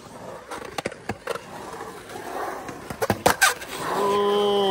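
A skateboard rolling and clacking through a trick during a game of skate, with rapid rattling wheel noise, a couple of hard board impacts, then a steady rolling roar, close by and without speech.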